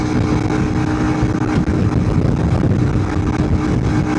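A big bore Honda CRF300L Rally motorcycle under full throttle climbing a hill, its engine droning steadily and loudly with a dense, continuous roar and strong wind rush throughout.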